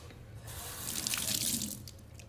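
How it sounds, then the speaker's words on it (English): Raw chicken rinsed under a running kitchen tap, a steady close hiss of water splashing into the sink that swells slightly midway, with no talking. "so we're gonna rinse this off"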